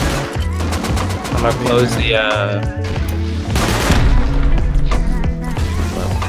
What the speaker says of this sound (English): Are they shooting the walls?